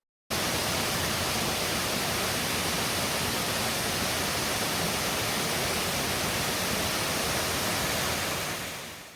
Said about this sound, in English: water's just crashing there